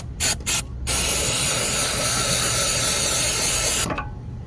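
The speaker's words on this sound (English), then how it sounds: "I thought we would just clean it out a little bit with this spray." An aerosol cleaner spray can sprays onto a GM 3.0 liter four-cylinder engine on a 35 kW generator: a few short bursts, then one long steady loud hiss lasting about three seconds before cutting off.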